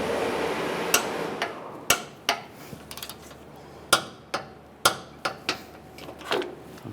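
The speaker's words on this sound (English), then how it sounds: "Now I'm going to torque these to 41 foot-pounds." A torque wrench tightens the front bumper bolts on a 1999-2006 Chevrolet Silverado 1500 to 41 foot-pounds, with about a dozen sharp metallic clicks at irregular intervals over a quiet garage background.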